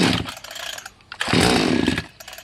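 A Salem Master chainsaw engine sputters and catches after a start pull, then revs up loudly and briefly before dropping off, heard close by with no talking.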